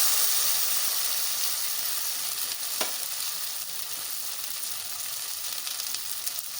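Anjal fish frying on a tawa over a low flame, a steady close sizzle with a faint crackle and one brief tap partway through.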